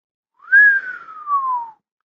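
One clear whistled note from a man glides slightly up, then slowly slides downward for about a second, alone in silence.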